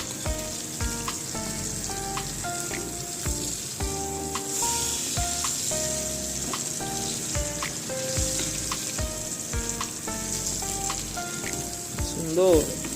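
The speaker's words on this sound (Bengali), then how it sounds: "আলু ভাজা হচ্ছে।" Potatoes fry and sizzle in a kadai in a small home kitchen, a continuous crackling bubble with occasional stirring clinks, steady and close throughout.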